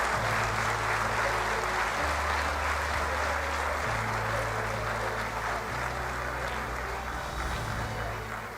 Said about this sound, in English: Her hard work needs a huge round of applause and appreciation.